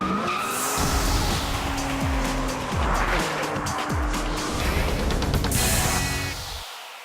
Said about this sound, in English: So come along as we hit our favorite road course, Savannah's Roebling Road Raceway, to find out just how much quicker and better the new 911 Turbo really is.